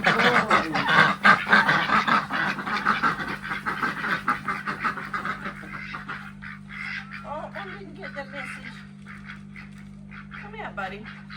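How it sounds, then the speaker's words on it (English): Young male ducks calling with honking quacks in short bursts, close and fairly loud at first, then quieter calls over a steady low hum while a person talks softly. "One of our little boy ducks"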